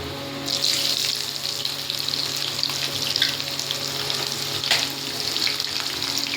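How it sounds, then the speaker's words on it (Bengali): Garam masala, whole cumin, bay leaf, dried chillies and onion fry in a pan for a chicken dish, a steady close sizzle with occasional stirring scrapes and no talking. "এবার সেই একই পদ্ধতিতে আপনার গরম মশলা, গোটা জিরে, তেজপাতা, শুকনো লঙ্কা, তার সাথে পেঁয়াজ আর টমেটোটা ভালো করে ভেজে নিতে হবে।"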